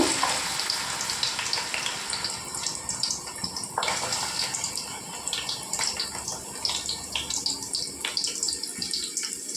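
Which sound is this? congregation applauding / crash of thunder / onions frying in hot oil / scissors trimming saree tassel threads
onions frying in hot oil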